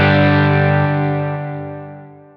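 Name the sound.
guitar chord fading via volume pedal, reverb and delay continuing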